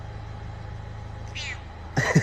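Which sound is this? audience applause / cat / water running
cat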